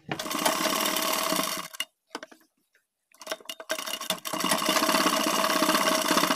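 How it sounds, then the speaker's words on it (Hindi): A sewing machine stitches a zip onto the side pocket edge of pajamas in two loud, steady runs up close, separated by a pause with short stop-start bursts. "यहाँ से किनार की सिलाई लगाते हुए लाएंगे बाहर वाली साइड में"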